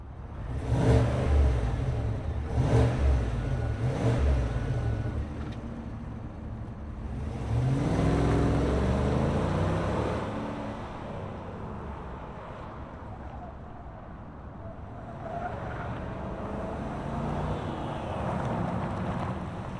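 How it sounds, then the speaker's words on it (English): A 2025 Chevrolet Suburban High Country with a naturally aspirated 6.2-liter V8 starts up with a loud burst, then settles into a steady idle broken by a few blips of revving, with some wind noise. "let's fire it up and hear what this Suburban sounds like"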